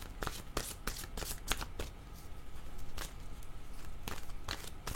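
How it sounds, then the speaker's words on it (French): Oracle cards are shuffled and spill over one another in quick, soft papery riffles and flutters, close but quiet, with no talking. "Oh, mes cartes sont en train de tomber, ça sera pas long."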